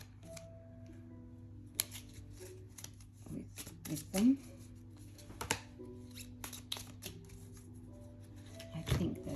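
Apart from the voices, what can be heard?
shuffling a tarot card deck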